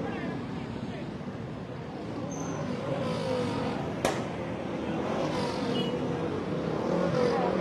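A car rushes past during a night street race, its engine roar building and swelling over several seconds under excited talking nearby, with a sharp click partway through.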